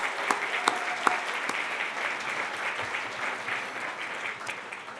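An audience at a humanitarian charity breakfast program gives a big round of applause, a dense sustained wash of clapping with a few sharp claps standing out near the start.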